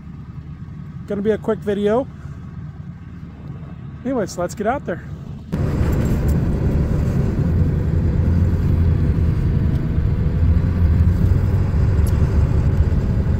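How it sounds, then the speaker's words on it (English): A pickup truck engine drones steadily while driving on a gray winter day out to a farm, a loud, constant low rumble taking over after a few seconds of quieter interior sound with someone talking. "Got the truck running"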